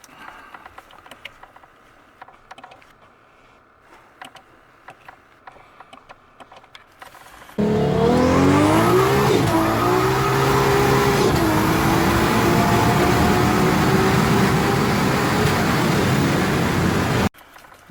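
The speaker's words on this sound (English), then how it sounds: "As soon as you touch the paddles, the gears start changing." A 1000 hp Mercedes turbo car accelerates hard after a few quiet seconds, its loud engine note climbing and dropping at each quick paddle-shift gear change before cutting off abruptly.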